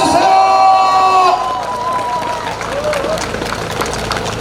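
Outdoor election campaign rally crowd in Hamyang clapping and cheering, a broad roar that starts loud over lingering tones and settles into softer scattered applause with shouting voices.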